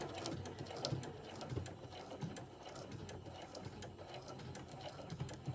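A sewing machine stitches slowly through pages into a journal cover, giving a faint, steady mechanical clatter of rapid needle strokes.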